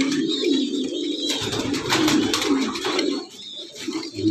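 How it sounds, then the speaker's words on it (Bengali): Racing pigeons coo in steady low, throaty rolls that overlap through the clip, several birds close by with light chirps and rustle mixed in and no talking. "কবুতর আছে"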